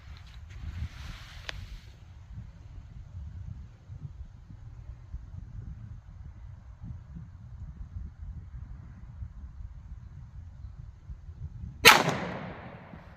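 A single loud gunshot from a 5-inch 1911 pistol firing Underwood 200gr .45 Super Xtreme Penetrator rounds, a sharp crack near the end followed by a brief decay, with faint wind and low rumble filling the quiet before it.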